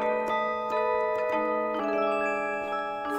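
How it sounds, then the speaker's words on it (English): A Q-chord electronic instrument strummed in a music therapy setting, giving bright harp-like sustained chords that shift a few times with clear note onsets, played alone without talk. "I have brought with me an instrument that music therapists often use within our sessions, and it's called a cue chord."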